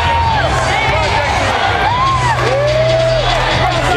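Boxing arena crowd cheering and whooping as a heavyweight fighter comes into view before a 2003 bout, a steady mild roar with scattered yells, heard beneath an announcer's voice.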